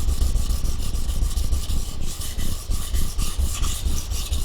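A Benchmade 940 knife blade scrapes across a large whetstone in repeated back-and-forth strokes, a close, gritty rasp that swells and fades rhythmically with each pass, with no talking.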